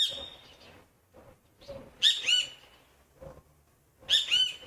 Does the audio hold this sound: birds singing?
yes